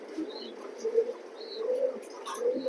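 Racing pigeons of a proven racing line cooing in a loft, soft low coos repeating at intervals at moderate distance, with faint chirps above and no talking.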